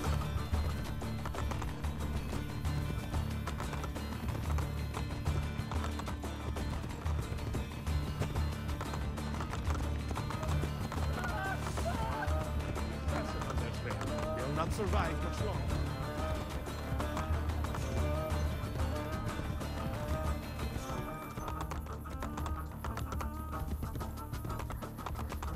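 Horse galloping in Assassin's Creed Brotherhood, a steady rapid drumming of hooves running throughout at moderate level over a constant bed of game music and ambience.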